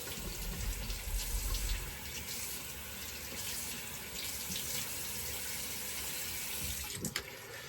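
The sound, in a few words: water running from tap while rinsing face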